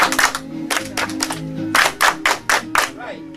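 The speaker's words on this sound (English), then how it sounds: "Here comes the hand clap." Dancers in an icebreaker line dance clap their hands together in sharp unison bursts, several grouped claps with short pauses between, close and crisp over a bed of music with low steady tones.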